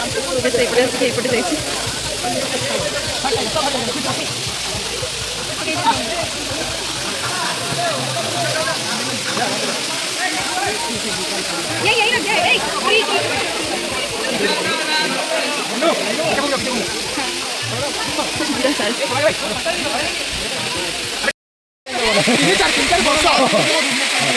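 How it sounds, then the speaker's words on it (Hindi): A waterfall roars as a steady, loud broadband rush throughout, with friends on an outing talking over it. "झरना देखिए।"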